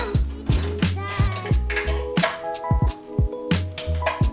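Removing bolts from a bracket on a 2006 Subaru WRX, a ratchet clicks in quick repeated bursts with short pauses between strokes, close and clear.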